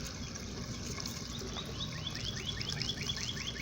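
Small birds chirp outdoors in a backyard, a quick run of repeated high tweets in the second half over a steady low wash of water and ambient noise.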